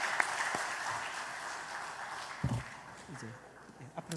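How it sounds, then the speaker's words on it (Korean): Congregation clapping during a Sunday Mother's/Parents' Day church worship service in Korea, a steady wash of applause from a full hall with a few louder claps and a speaking voice breaking through partway. "다시 한번 박수해 주시면 감사하겠습니다."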